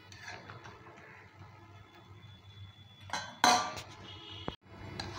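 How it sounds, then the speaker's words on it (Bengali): Eggplant and fish curry being stirred in a pot before the lid goes on, quiet background hum, then a loud metallic clatter of spoon and lid against the pot and a sharp knock. "দিয়ে এখন আবারও নাড়াচাড়া করে আবারও ঢাকনিতে ঢেকে রেখে দেব"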